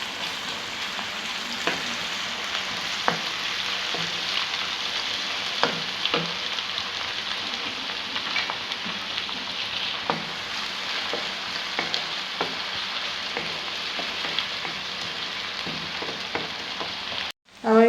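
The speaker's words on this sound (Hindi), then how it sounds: "अब इसमें हम लहसुन और अदरक का पेस्ट डाल रहे हैं," Garlic and ginger paste fries with lightly browned onions in a pan, a constant close sizzle with occasional stirring scrapes, no voices.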